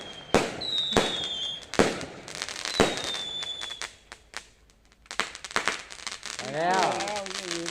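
Loud fireworks bangs burst at irregular intervals at a Yi Peng lantern festival, with crackling and whistling tails, followed by a rising whistle and warbling sounds near the end.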